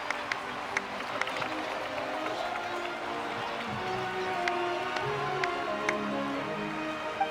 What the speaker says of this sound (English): Let us send her off with a round of applause